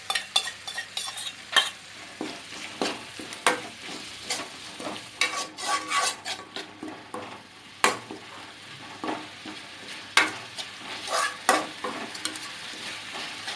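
Prawns sizzle and fry in a pan while a utensil stirs them, producing repeated scraping strokes and clinks over a steady close hiss, with no talking.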